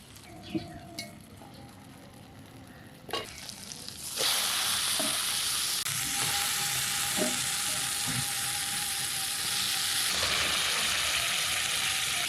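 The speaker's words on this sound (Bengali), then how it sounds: "লেবুর রস দিয়ে যে চিকেনগুলো মেখে রেখেছিলাম এবার ছেঁকে ছেঁকে কড়াইতে দিই" Lemon-juice-marinated chicken pieces drop into a wok of cooked spices with a few clunks, then a loud, steady close sizzle of frying continues to the end.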